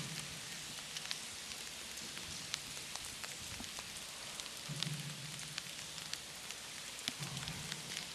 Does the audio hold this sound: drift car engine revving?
no